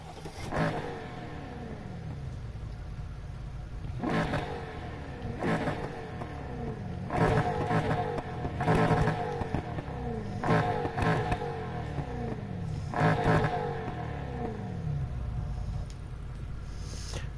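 Upgraded car in Need for Speed Heat revving hard and repeatedly, engine surging and falling in a series of roaring bursts with downward-sweeping tones, loud and close throughout with no voices.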